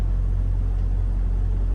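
A semi truck's engine gives a steady, loud low rumble as the rig creeps forward at a shipper's lot. The drone stays constant throughout and no one speaks over it.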